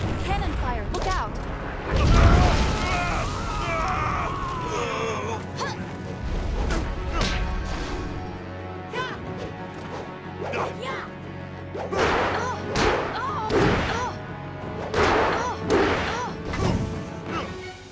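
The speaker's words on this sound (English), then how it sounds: "Cannon fire, look out!" Heavy booming blasts and crashes of cannon fire go off repeatedly under shouting voices and a chaotic, swelling din.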